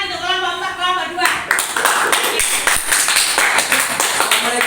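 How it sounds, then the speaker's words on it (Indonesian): Classroom applause for student groups during a mathematics lesson: scattered claps and taps that build into a dense burst of clapping after the first second, close and fairly loud, continuing steadily to the end. "Tepuk tangan untuk kelompok 4, kelompok 2."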